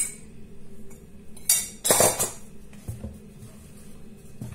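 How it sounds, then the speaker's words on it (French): A spoon stirs flour into a sticky dough for Turkish bread, clinking and scraping against the bowl in a few short bursts, loudest midway, with quieter taps afterward and no talking. "On essaye de bien touiller avec la cuillère."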